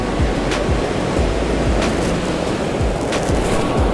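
Ocean surf breaks on a beach at a very high tide with strong water movement, a continuous loud wash of rumbling waves with gusty wind noise and no voices.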